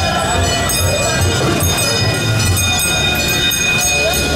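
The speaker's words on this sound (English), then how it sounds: "please remain seated until the train has come to a complete stop" Train ride pulling into a depot: a loud, steady rumble of rolling rail cars with a faint high-pitched tone running through it.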